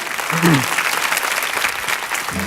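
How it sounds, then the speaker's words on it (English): A church congregation of women applauds during a sermon on biblical manhood. The short, full burst of clapping has a brief voice over it at the start. "Ladies, I think you want to applaud your husbands."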